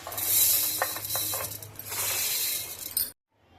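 Washed and dried rice pours into a mixer grinder jar, giving a close, continuous rattling patter of grains that stops suddenly.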